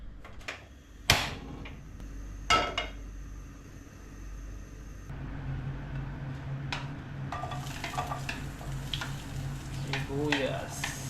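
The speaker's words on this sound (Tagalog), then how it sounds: "Magigisa na. Gisa na tayo." Sautéing in a pan while starting a bitter gourd (ampalaya) dish, with a steady sizzle that grows after ingredients go in, a few sharp utensil knocks early, and a voice talking over it.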